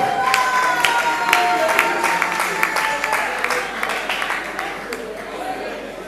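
Festival audience applauding an invited guest, a continuous wash of crowd clapping with scattered sharper claps throughout, steady and moderately loud with faint voices underneath.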